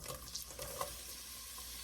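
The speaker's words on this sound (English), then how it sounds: "Y'all can hear that sizzle." Sliced onions sizzle in hot reused frying oil in a pot, a steady crackling fry with a few clinks of stirring, close and moderately quiet.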